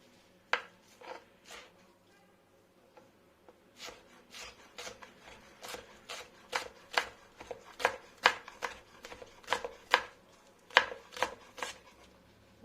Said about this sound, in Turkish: Önce iki dal soğanımı doğrayacağım.